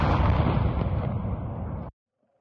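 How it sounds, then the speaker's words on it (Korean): A Russian ammunition depot blasts apart after a Ukrainian drone strike, a loud, continuous roar of explosions and bursts that rumbles for about two seconds and then cuts off abruptly into silence. "불꽃이 터지는 소리가 들리고 불기둥도 보입니다."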